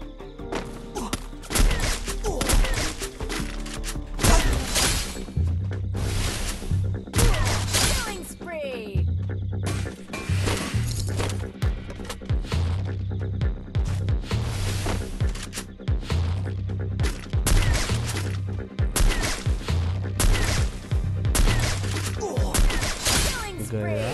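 Sniper rifle shots and other gunfire in the Free Fire battle royale game ring out repeatedly amid game sounds, while players talk excitedly over the action throughout.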